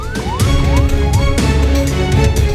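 A loud ambulance siren wails in repeated rising sweeps, close and dominant over road traffic rumble, during an Indonesian disaster relief operation where ambulances carry victims to a transfer point.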